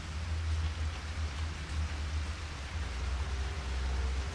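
Steady rain in the survival horror video game Siren 2, a constant even hiss of falling water with a low rumbling bed underneath, unbroken throughout and with no voices.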